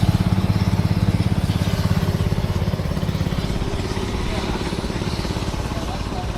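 The engine of a John Deere 620 LPG Grove and Orchard tractor, pulling a Hardy orchard sprayer at an antique agricultural show, chugs in a steady, even rhythm at moderate volume nearby.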